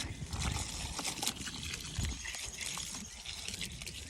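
Water poured from a watering can onto soil over seed potatoes planted in a container, a steady close splashing trickle with small irregular drips and spatters throughout.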